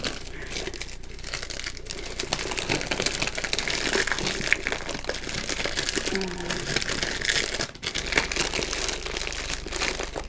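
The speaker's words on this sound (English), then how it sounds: "I'm not good at unwrapping." Plastic packaging being torn and crinkled off new Rubik's cubes, continuous close rustling and crackling that keeps going throughout.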